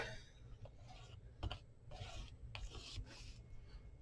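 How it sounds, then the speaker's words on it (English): Quiet rubbing and rasping of a burnishing tool pressed over craft paper, a few soft scraping strokes with occasional faint clicks, close and low in level. "let's burnish that down a little bit"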